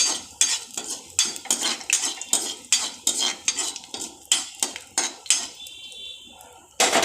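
A spoon scrapes and clinks around a dry wok as asafoetida is stirred into a little white oil, a quick series of sharp metallic strokes with brief gaps, close and distinct, no voices.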